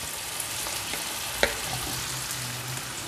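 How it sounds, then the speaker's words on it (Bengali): Ingredients for a Punjabi-style chicken curry fry in a pan, giving a steady, close sizzle with a brief clatter of stirring partway through, no voices. "আমার এগুলো একটু ভাজা হয়ে গেছে"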